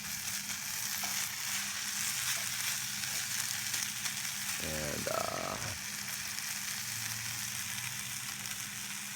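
Steady sizzling and crackling of hashbrowns frying in a new pan over a folding firebox outdoors, close and continuous, with a brief scraping stir in the middle.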